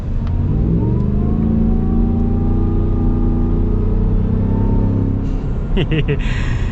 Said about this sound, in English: And the exhaust, you guys heard the exhaust note. It is bonkers.